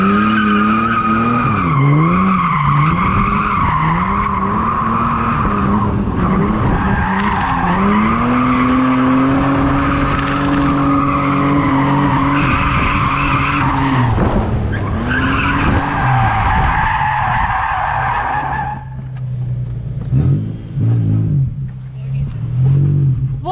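Nissan 350Z spinning out on track, with long loud tire squeals and skidding over a revving engine that rises and falls, ending as the car settles and the noise drops off.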